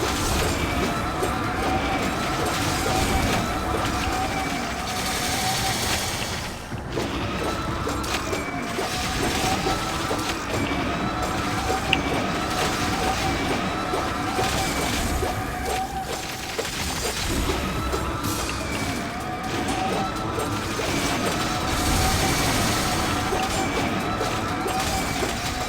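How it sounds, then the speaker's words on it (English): Grim Reaper boss fight in Hero Siege: dense, continuous game noise of crashing, rattling death rattles and sweeping scythe swings, loud and busy throughout with repeated impacts and no break. "the death rattles do increase and intensify with the scythe sweeping across the room"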